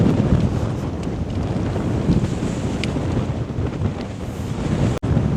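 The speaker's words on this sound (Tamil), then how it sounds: "அலை ஒவ்வொன்றும் பெரிய பெரிய அலையாக வருதுங்க, உங்களுக்கு பார்த்தாலே தெரியும்." Big sea waves at Dhanushkodi roar in a steady, dense wash of surf, heavily buffeted by wind noise on the microphone, with a brief dropout near the end.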